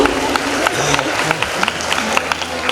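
An audience at a cultural stage event in Taki applauds in a steady, close round of clapping, with a voice speaking faintly beneath it.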